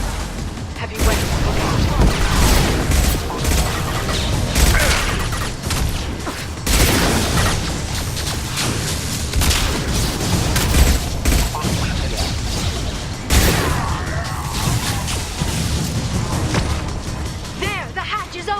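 Heavy weapons blast away in Mass Effect 2 combat, a loud, sustained barrage of booming shots and crashing impacts with a few brief gaps, while a voice talks over the fighting.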